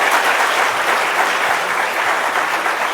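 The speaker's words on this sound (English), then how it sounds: "another round of applause" A large audience gives a loud, dense round of applause after a talk at a conference, with steady clapping that holds from start to finish.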